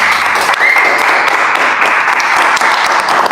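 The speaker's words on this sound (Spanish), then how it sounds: "si lo cree, dele un aplauso al Señor" A church congregation claps in sustained, loud applause, dense and steady throughout without pause.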